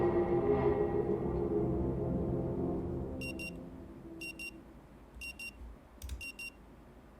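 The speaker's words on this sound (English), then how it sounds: "The frenetic sound of a century-old clock nudges you back to the present." A century-old clock alarm rings in an indie time-loop video game, sounding as short repeated bright bursts of ringing that come in several evenly spaced groups over a low ambient bed after a fading opening rumble.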